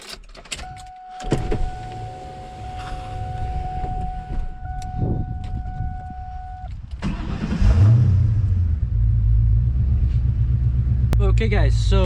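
A cammed Ford Mustang GT fitted with BC coilovers starts up after a car-door and power-window whine, then settles into a loud, deep, lumpy idle rumble close by, with speech heard over it.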